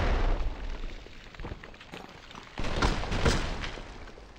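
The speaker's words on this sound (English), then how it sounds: "all the explosions happened at once" Several explosions go off close together in a co-op session of the video game Fallout New Vegas, a dense rumbling burst of booms with louder blasts near the end.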